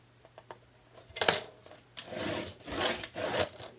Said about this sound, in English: now I'm going to switch to my scoring tool. And I'm going to score it at 1/2 inch.